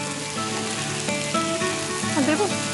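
Chopped carrot tipped into a hot pan of oil, giving a close, loud sizzle and frying crackle with stirring, while background music plays underneath.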